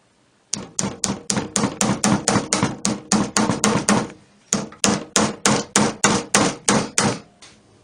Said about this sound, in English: To attach the cabinet back, I'm using these 7/8 inch brass twist nails